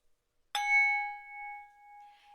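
A single bell strike rings out clearly and alone, a bright ding whose metallic tone sustains and slowly fades over a couple of seconds.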